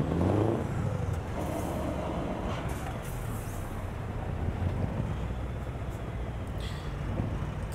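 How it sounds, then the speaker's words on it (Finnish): Steady low rumble of a V8 truck engine heard through an open cab window in Euro Truck Simulator 2, a constant droning hum with wind noise and faint passing traffic. "aukastaa sitä ikkunaa ja kuunnellaan vähän tota V8:n murinaa"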